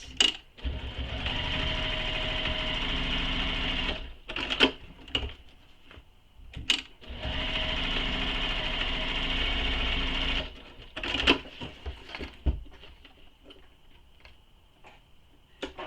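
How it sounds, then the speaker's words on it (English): A sewing machine stitches lines on thick backpack webbing strap in two long, steady runs of rapid stitching lasting about three to four seconds each, close up, broken by short clicks and handling noises between runs. "So now I'm going to stitch 2 lines of stitching on that."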